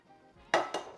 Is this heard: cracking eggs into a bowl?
yes